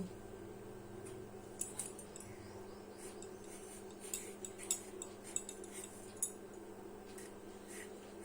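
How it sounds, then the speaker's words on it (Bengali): Pointed gourds (potol) peeled with a knife in a home kitchen, faint scattered scraping clicks and light knocks against steady quiet room hum, without any talking. "আমি এখন পটলগুলো ছিলে নিব।"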